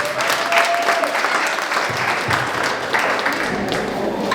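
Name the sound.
audience applause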